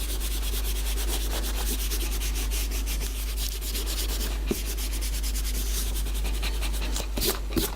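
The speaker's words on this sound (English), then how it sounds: "I can just rub out a few of these guidelines here" An eraser rubs out pencil guidelines on an illustration of an anime figure, a steady scratchy rubbing that runs close and continuous with a few brief sharp taps near the end.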